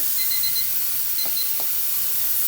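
A digital timer beeps in short, thin bursts over the loud, steady hiss of steam venting from a pressure canner while chicken breast is being canned.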